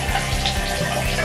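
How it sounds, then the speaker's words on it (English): Water runs from a bathroom tap while a face is splashed and wetted, a steady close rush broken by a few soft low splashes. "And then I'll wet my face with water."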